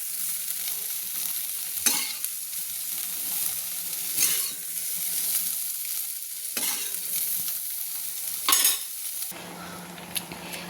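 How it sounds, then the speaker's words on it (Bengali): Soybean chunks frying in a pan, a constant low sizzle punctuated by four or five sharp scraping stirs of a utensil against the pan, close and clear. "আমি একটু নেড়ে নিচ্ছি। একটু ভাজা হয়ে গেলে নামিয়ে নেব।"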